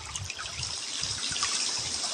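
Water running from a tap in a kitchen in the Avakin Life video game, a steady bright trickling splash that continues evenly throughout, moderately loud and alone.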